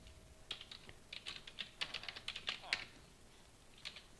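Fingers type on a computer keyboard in quick uneven bursts of light clicks, close and fairly soft, with short pauses between keystrokes.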